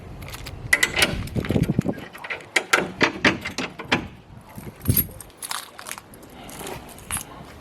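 Keys jangle and clink in a series of metallic rattles and handling knocks, close by, with no talking.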